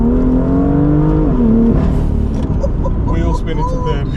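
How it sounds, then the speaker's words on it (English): A tuned Stage 2+ BMW M2 with 442 bhp accelerates hard, its engine roaring loud from inside the car, with a rising pitch, a sudden drop at the shift into third gear, then climbing again as voices talk over it. "Wheel spin into third gear."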